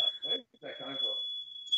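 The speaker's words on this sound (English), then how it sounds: "Sounds like your fire alarm." A fire alarm sounds as a steady, high-pitched electronic tone that runs through the whole moment, clearly audible beneath people talking.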